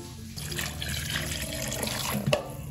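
Water is poured over bamboo shoots in a pot in one continuous, close splashing stream lasting a few seconds, with a small clatter near the end.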